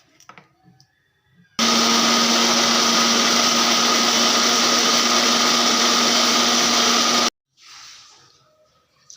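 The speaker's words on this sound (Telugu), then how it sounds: "అల్లం వెల్లుల్లి పేస్ట్ వేసుకొని మిక్సీ పట్టేసుకోవాలి" Mixer grinder whirring loudly as it blends ginger garlic paste with masala, tomato, coriander and mint, a steady high-pitched motor drone lasting about six seconds before stopping abruptly, with quiet handling noises before and after.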